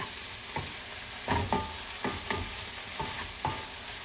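Spinach wilting in melted butter with olive oil, salt and pepper in a pan, giving a steady low sizzle broken by several close scraping stirs at an uneven rhythm, with no voices.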